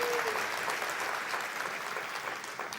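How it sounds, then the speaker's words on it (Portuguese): A church congregation claps steadily in dense, sustained applause that stays loud and even throughout, filling the room without any speech over it. "pode aplaudir Jesus"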